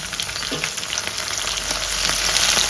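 Curry leaves and turmeric hit hot oil with minced mutton, giving a loud, close sizzle and crackle that swells steadily, with a few sharper spits and stirring scrapes and no talk.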